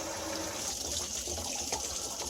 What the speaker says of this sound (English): I'm also going to turn that open and let that drain water out as well.